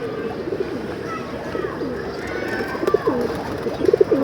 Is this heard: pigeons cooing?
yes